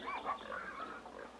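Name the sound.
pigs grunting in a garden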